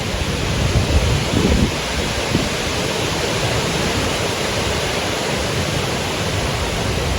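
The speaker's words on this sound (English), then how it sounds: "As you can probably hear that wind." Strong wind roars steadily across a wild camping spot, a dense, broad rushing noise with a few heavier gusts buffeting the microphone early on, continuous and close with no voices.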